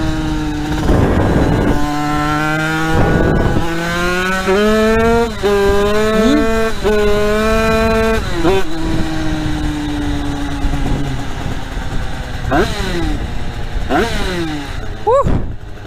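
A prototype vehicle's engine revs hard and repeatedly while its clutch slips, on gravel. The rising and falling revs stay loud and close, with brief gaps between bursts.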